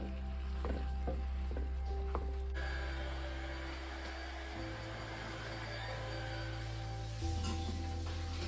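Seasoned meat, flavored with oregano, parsley, salt and pepper, frying in a home pan with a steady close sizzle and some stirring and scraping, no talk.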